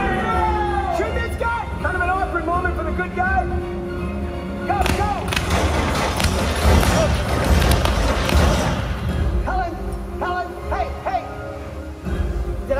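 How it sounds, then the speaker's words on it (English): Staged gunfire during a live Waterworld stunt show at Universal Studios, a burst of loud repeated shots and thuds mixed with music, splashing and an outdoor crowd. "I need some gunfire now!"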